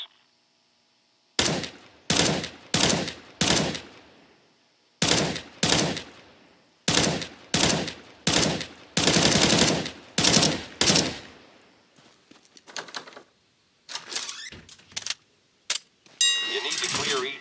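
Machine guns fire in a CS:GO training course: about a dozen short, sharp bursts spaced a beat apart, then a scatter of quicker single shots and mechanical clicks near the end.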